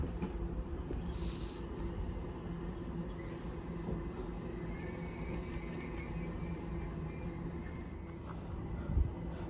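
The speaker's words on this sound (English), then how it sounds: "terminating here off of East Croydon is going to be a southern service" Southern class 377 electric train terminating at Watford Junction, a steady low rumble of the train running through the platform area throughout, with a brief louder knock near the end.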